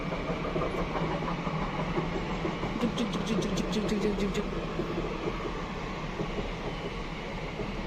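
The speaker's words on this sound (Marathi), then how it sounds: "ट्रेन पण आले गाडी पण आली त्याच्यामुळे थोडासा आवाज अडखळतोय" A train rumbles past steadily, with a run of rhythmic clicking wheel beats in the middle and muffled voices underneath.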